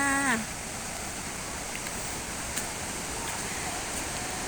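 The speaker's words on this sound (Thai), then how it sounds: "ฟังเสียงน้ำตกสิคะ" A rainy-season waterfall at Mo Paeng in Pai, Thailand, gives a steady broadband rush of falling water, even and continuous throughout, with a brief voice-like sound at the very start.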